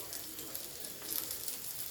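Prawn curry sizzles quietly in a pan, a soft, even crackle of frying that stays low and close, with no voices.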